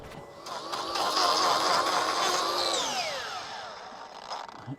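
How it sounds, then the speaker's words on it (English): A power grinder whines steadily as it cuts through a tough hoof block glued on a cow's hoof, its pitch rising and falling as the load changes, with no voices. "Even the grinder doesn't want to grind through them."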